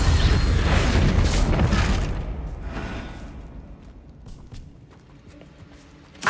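A Bombarda spell explosion in Hogwarts Legacy goes off as a loud, broad burst with rumbling low end, then decays over a couple of seconds into quieter game ambience and scattered thumps, with a final sharp hit at the end.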